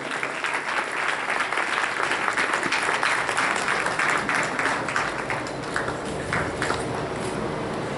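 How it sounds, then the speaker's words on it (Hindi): Audience at an award ceremony during a satsang grand finale celebration applauding steadily, a dense continuous crowd clapping that holds its level throughout. "इन लोगों के लिए बहुत जोरदार तालियां होनी चाहिए।"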